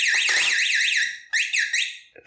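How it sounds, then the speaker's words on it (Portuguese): An Arduino alarm circuit wired to a professional siren gives three loud, sweeping electronic wails in a row to signal that it is armed again, with short gaps between them. "Esses 3 toques indicando que o alarme está armado de novo."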